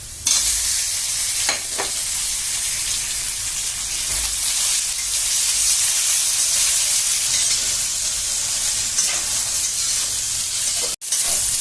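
A pan of tangy, spicy chutney with garam masala and chilli fries hard, loud continuous hissing sizzle close up, with occasional stirring scrapes cutting through and a brief break near the end.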